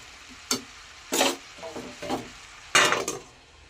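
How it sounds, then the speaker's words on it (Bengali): A spoon scrapes and knocks against a pan while mixed vegetable curry is stirred, giving a few distinct clattering strokes with quiet gaps between them over a faint background and no talking. "আমি একটু নাড়াচাড়া দিয়ে আবার চাপা দিয়ে দেব"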